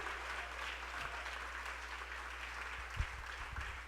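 A church congregation claps together in praise during a Spanish-language service, a dense, steady applause that is sustained and moderately distant throughout, with a low hum underneath.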